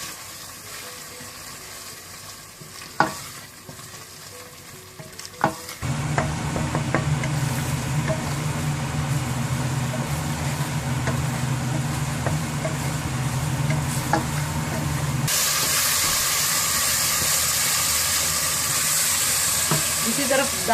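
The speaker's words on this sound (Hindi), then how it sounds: "धनिया पाउडर, कसूरी मेथी और नमक मिलाकर आप अच्छी तरह से इसे भून लें।" Daal masala of turmeric, coriander powder, kasuri methi and salt sizzles in a pan while being stirred; a steady frying hiss swells after a couple of sharp clicks, turning brighter and louder toward the end.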